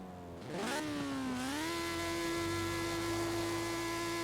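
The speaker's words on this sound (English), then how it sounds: "let's see how high this thing actually revs now" A car engine in Forza Horizon 4 revs up quickly, then holds a loud, steady high-pitched whine near its rev limit. The sound is close, sustained and buzzy, with no talking.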